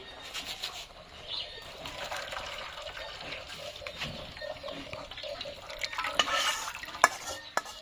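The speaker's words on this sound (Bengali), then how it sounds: "নামায় পানিটা ডাইলে ফালাই দেই" Water from boiled mixed leafy greens poured off into a pot of lentils: a steady wash of pouring and splashing liquid, moderately quiet, with a few sharp clinks of the vessel near the end.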